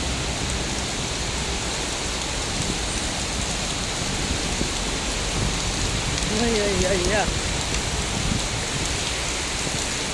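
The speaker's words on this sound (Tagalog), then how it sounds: "Grabe ang ulan." Heavy rain pours down at an early-morning market, a dense, loud, unbroken hiss of drops on surfaces, with a brief voice exclaiming and a faint wavering tone midway.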